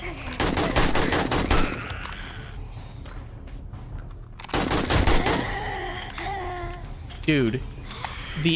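AK-47 gunfire in the video game 7 Days to Die rattles in rapid automatic bursts, loud and close, pausing and resuming, while someone talks excitedly over the shooting.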